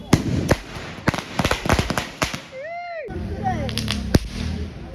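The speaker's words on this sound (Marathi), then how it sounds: "फटाक्याच्या माली वाजवल्या मी इथे बघ" A string of firecrackers pops off in a rapid, irregular burst of loud, sharp cracks. A whistling rocket rises partway through, and a few last bangs come over a noisy crowd.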